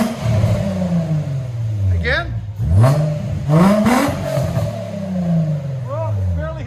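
A car engine revs repeatedly through a new muffler in quick bursts, pitch rising and falling with each blip, loud and close, with a brief spoken word.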